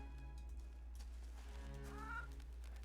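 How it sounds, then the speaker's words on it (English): A video game chicken clucks and warbles in short rising calls, fairly close over a low steady background hum, with no speech. "The chicken's not looking at us."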